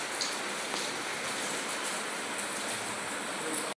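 Steady rain pours down in a dense, even hiss close by, with no let-up until it cuts off abruptly at the end.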